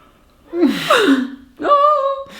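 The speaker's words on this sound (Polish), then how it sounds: "Dzisiaj mamy dla Was trochę ziewania." Two drawn-out vocal yawns, the first a long falling groan, the second a higher sustained tone, close and loud.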